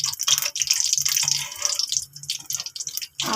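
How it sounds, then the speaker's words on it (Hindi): Gulab jamun dough balls frying in warm ghee, a close, steady bubbling and sizzling with soft crackles that briefly drops near the end. "मैं एक एक करके अपनी तमाम गुलाब जामुन की जो टिक्कियाँ हमने तैयार की थी वो इसमें डाल दूँगी।"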